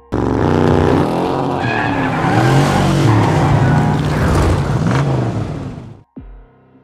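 A modified car being test-driven hard, its engine roaring loud and close with tires skidding and squealing through turns, then cutting off abruptly near the end.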